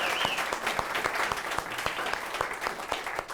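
Audience applause for a band on a talk show stage: a steady, dense clapping that holds at an even level for a few seconds, with sharp individual claps standing out near the front.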